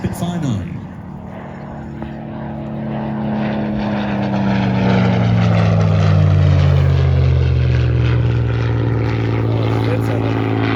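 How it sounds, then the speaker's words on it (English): Spitfire IX piston-engined propeller fighter passing at an airshow, a loud throbbing engine drone that swells and then falls in pitch as it moves away, with an announcer talking over it. "completed its first pass, the Spitfire 9."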